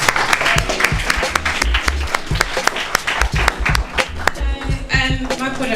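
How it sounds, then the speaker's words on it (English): Audience applause for a young woman called Marina at a youth event, steady dense clapping across the whole stretch with a few sharper claps standing out and faint voices mixed in. "If you can just give her a round of applause."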